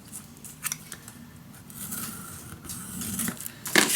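Scissors snip paper for a Prima Darcelle scrapbook mini album, producing a few soft, close cutting crunches over a quiet room background, ending with a slightly louder snip.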